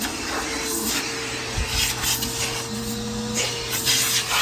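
A vacuum cleaner runs steadily with a clog, a constant motor drone carrying a thin whistling tone that shifts pitch, with a brief low thump midway and slight rattles throughout.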